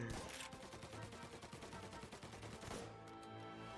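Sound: shotgun gunfire in the video game Mafia

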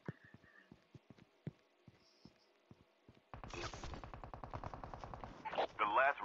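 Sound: AK rifle gunfire in a video game

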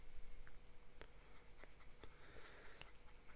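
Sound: Pelikan M1000 fountain pen writing an ink swatch

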